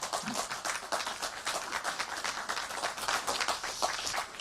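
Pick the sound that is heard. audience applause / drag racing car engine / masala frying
audience applause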